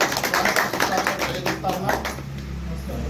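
Applause at the opening of a new print and electronic media press club: a steady patter of clapping from a gathered crowd, running under a voice speaking through it.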